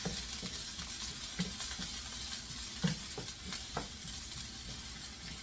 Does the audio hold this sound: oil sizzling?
yes